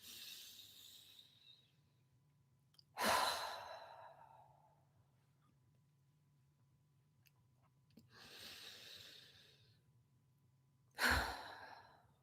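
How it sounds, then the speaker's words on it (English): Deep breaths during a guided meditation, a few slow, heavy inhales and exhales spaced several seconds apart, close and fairly soft over a low, quiet hum. "Begin taking deep breaths."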